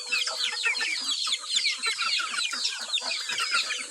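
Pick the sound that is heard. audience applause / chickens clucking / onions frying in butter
chickens clucking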